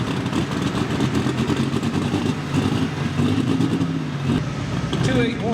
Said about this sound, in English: Tractor out of Science Hill, Kentucky, the alcohol-powered farm all called Under the Influence